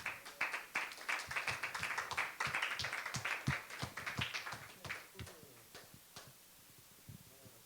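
A church congregation claps during a Sunday service, a steady run of sharp, dense handclaps that swells and then thins out toward the end.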